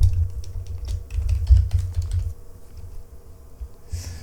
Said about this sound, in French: si je tape par exemple tennis